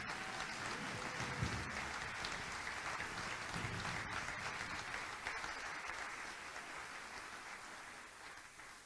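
Steady audience applause at a business marketing talk night, a dense wash of clapping from a crowd that holds throughout, fading slightly toward the end with no talk over it.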